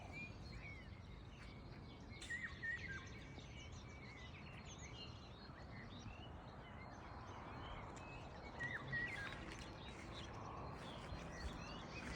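Birds chirp faintly in a village garden in the morning, with scattered high tweets over a soft, steady outdoor hum, distant and quiet.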